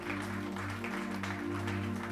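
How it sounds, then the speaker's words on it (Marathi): A church congregation claps together in sustained, dense applause that stays even for a couple of seconds over a low steady hum. "जरा जोरदार टाळ्या प्रभूसाठी."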